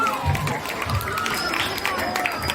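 Audience applause during a Balinese Bondres comedy show, a steady wash of clapping and crowd noise filling the space with some voices mixed in.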